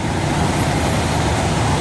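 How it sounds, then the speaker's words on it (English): Steady, loud roar of idling diesel truck engines and road traffic at a truck stop, a continuous rumbling drone with no breaks or voices. "all these engines that are running"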